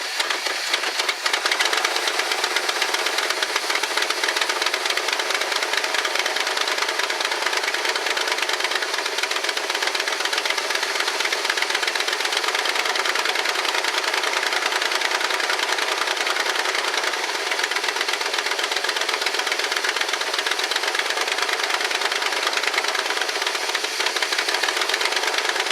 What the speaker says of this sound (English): That's got a cracked exhaust manifold on the passenger side. That's where the exhaust leak is from.